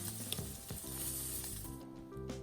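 Fresh truffle frying in a pan for a Thai vegan dish gives a steady, close hiss and crackle with faint scraping, with no talk over it.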